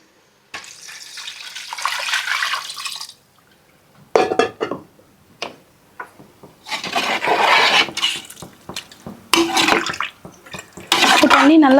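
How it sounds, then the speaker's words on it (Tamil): Six glasses of water are poured into a cooking pot for chicken biryani, giving several separate splashing pours with brief quiet gaps and clinks of glass against metal. "இப்போது நான் 6 கிளாஸ் தண்ணி ஊற்றிக்கிறேன்"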